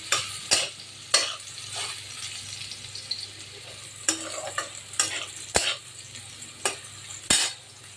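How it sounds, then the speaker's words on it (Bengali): Potatoes and pumpkin with salt frying in oil in a pan for a Bengali jute-leaf dish, a steady close sizzle broken by repeated sharp clacks of a spatula stirring, with no talk. "নুন দিয়ে আলু আর কুমড়োটাকে ভালো করে ভেজে নেব"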